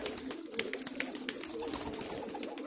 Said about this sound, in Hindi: काफी पुराने नस्ल के कबूतर है ये